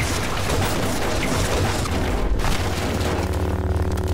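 Explosions from a realistic-physics Minecraft build of the Twin Towers, with tanks blowing up: dense, continuous booming rumble that keeps rolling the whole time, with no gaps and no talking.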